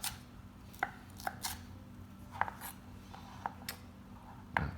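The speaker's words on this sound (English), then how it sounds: "So we're gonna use about a half a jalapeno. And this you're gonna get chopped kind of fine." A knife chops half a jalapeno finely on a cutting board, giving sharp, quiet taps at close range in an uneven rhythm, about a dozen light strikes spread over a few seconds with no voices.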